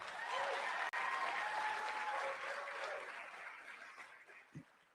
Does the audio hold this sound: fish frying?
no